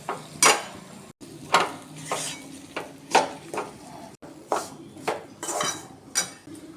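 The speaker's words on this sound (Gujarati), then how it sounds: "તેની અંદર ગુંદર ઉમેરી દઈશું અને તેને પણ સરસ મિક્સ કરી લઈશું" A utensil stirs edible gum into roasted flour in a pan for Gujarati gundarpak, making repeated close scraping strokes roughly every half second to second over a faint sizzle.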